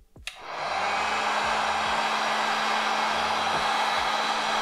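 A heat gun warming Barge Superstik contact cement on a sneaker during a shoe restoration. A click starts it, then a steady, loud, continuous blowing whoosh runs unbroken to the end.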